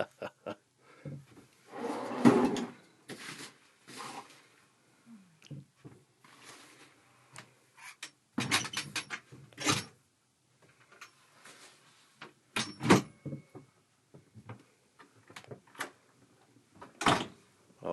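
A storage unit slides out of a closet aboard an 85-foot 1929 Hoffar-Beeching wooden boat: scattered close knocks, clunks and scraping bumps, with quiet gaps between bursts and no talk.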